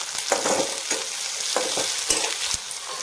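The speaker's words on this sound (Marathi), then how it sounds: "आता कांदा चांगला लाल होतो त्याला असं परतून घेऊ आपण" Chopped onion pieces sizzle steadily in a hot pan while being stirred and sautéed for an onion peanut chutney, with scraping strokes of a spoon cutting through the continuous frying hiss.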